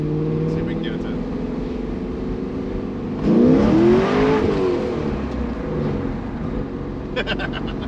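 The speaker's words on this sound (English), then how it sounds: "This car runs hard though" A Chevrolet Corvette C5 Z06 drones along at steady cruise, then its V8 rises sharply in a hard acceleration run before easing off, heard from inside the car with someone talking over the engine.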